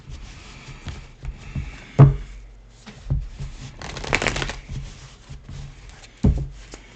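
Tarot cards are shuffled and drawn on a table, giving soft rustling riffles and several distinct slaps as cards are laid down, fairly close with no speech.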